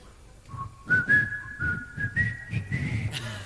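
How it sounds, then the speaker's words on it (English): An Australian rockabilly singer whistles a short tune, a series of clear sliding pitched notes in a lilting rhythm, close and solo, with faint room noise beneath. "Now, what I'm going to do, I'm going to whistle"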